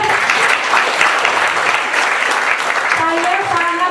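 An audience claps for a leader at a motivational talk, a loud continuous burst of applause from a crowd filling the whole stretch, with a voice speaking over it near the end.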